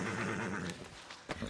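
A horse whinnies in Red Dead Redemption 2 Online, a short close neigh with wavering pitch, followed by faint thumps and a sharp snort at the end.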